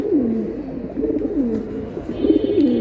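A male silver pigeon at a pigeon market coos repeatedly in close, rolling low phrases that rise and dip, loud and clear with almost no other noise around.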